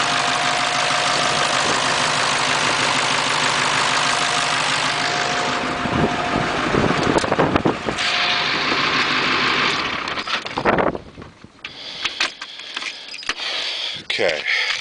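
A 1995 Ford F250 Powerstroke diesel idles loud and close for about ten seconds with a steady knocking clatter, then cuts off, leaving quieter background sounds.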